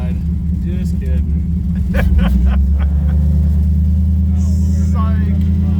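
A loud, deep engine rumble from a roofless 1960 Chevrolet Impala with an LS swap fills the cabin while driving, steady and throaty throughout, with people talking over it.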